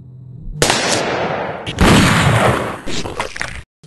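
Gunshot effects fired on the set of a Pride & Prejudice parody film with guns: loud, close bursts of gunfire-like blasts that run almost continuously for about three seconds, then cut off abruptly.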